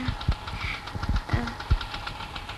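A scooter engine idles and putters close by with uneven knocking pulses, steady and moderately loud, with no talk over it.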